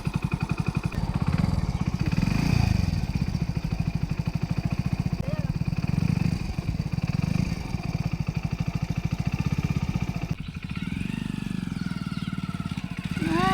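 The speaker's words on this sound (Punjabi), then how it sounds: "ਸਾਡਾ ਮੋਟਰਸਾਈਕਲ ਆ ਗਿਆ ਬਈ ਆ ਗਿਆ" A new motorcycle's engine idles and putters steadily up close, its rhythmic chug continuing throughout with a slight shift in tone near the end.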